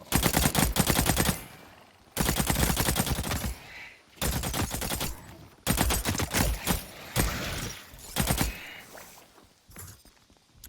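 Rapid, loud gunfire in the shooter game The Cycle: Frontier, several long bursts of dense, close shots separated by short pauses, with some shots scattered toward the end.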